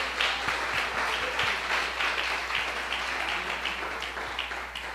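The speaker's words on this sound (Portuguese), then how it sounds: "Dê uma salva de palmas ao Senhor." A church congregation claps together in sustained applause, a dense even patter of many hands with a few sharper nearby claps, over a low steady hum.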